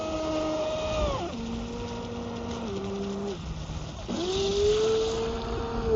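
A ProBoat SonicWake 36-inch V2 RC boat's motor whines steadily, then steps down in pitch as it brakes in reverse before surging back up to a higher, strained whine, continuous and fairly loud, with no talking.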